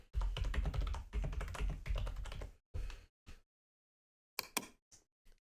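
Rapid typing on a computer keyboard, dense clattering keystrokes in bursts for a few seconds, then a pause and a few scattered final taps, close and fairly loud with no talking.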